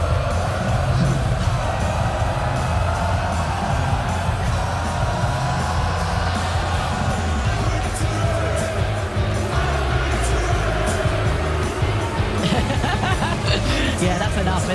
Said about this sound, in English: Getting a lot of love from this Sheffield crowd